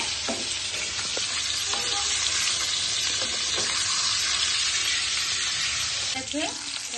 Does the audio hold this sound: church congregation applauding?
no